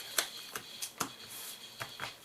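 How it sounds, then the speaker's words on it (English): A deck of location cards for a card game is shuffled in soft, quiet bursts, five or six brief papery riffles in uneven rhythm with no one talking. "Location deck is shuffled."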